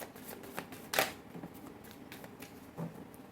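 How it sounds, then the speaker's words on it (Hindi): Tarot cards shuffled by hand in a quiet room, giving a few soft papery riffles and flutters with one sharper burst near the middle and another toward the end. "This is my last shuffle."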